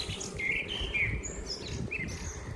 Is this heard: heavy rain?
no